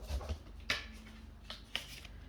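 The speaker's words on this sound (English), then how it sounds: "going to shuffle that again because there's quite a few cards that fell out" Cards being shuffled in a few quiet riffling bursts, close and soft, with low background hum.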